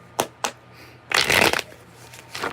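Tarot cards being shuffled up close: two quick riffle snaps, then a longer dense burst of cards flapping and sliding, trailing off into a softer brush near the end, with no talking.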